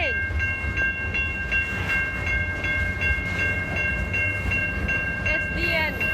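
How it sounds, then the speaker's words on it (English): A CN freight train rolls steadily past with its boxcars, a continuous rumble and rail clatter filling the whole stretch, with a steady high squeal from the wheels and a brief whistle near the end. "The thick CN logo boxcars."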